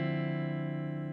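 A single sustained note on an NS Stick rings out alone, bright and rich in overtones, dry with no reverb tail.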